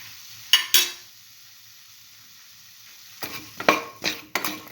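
Eggplant and mint leaves are stir-fried and mixed in a hot pan, giving a steady sizzle under a few sharp scraping and clanking stirs of a utensil against the pan.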